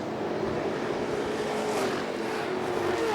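West Coast Pro Trucks race side by side on an oval track, with engines droning at high revs in a continuous, rising and falling roar and no talk over it.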